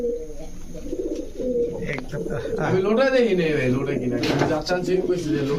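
Lotan pigeons cooing close by, repeated throaty warbling coos rising and falling at a market setting, with people talking over them.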